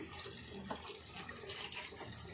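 Water running and splashing as washed potatoes are drained in a perforated colander while fasting-style potato chevdo is prepared, a steady close rushing trickle throughout with no talk.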